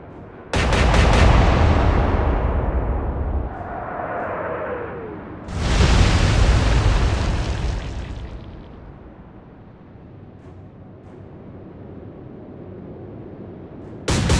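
Naval battle gunfire in the Atlantic Fleet game involving the Bismarck and Royal Navy ships: a loud cannon blast booms and rolls away, a second heavy shot follows, then distant rumbling fades before another sharp report at the end.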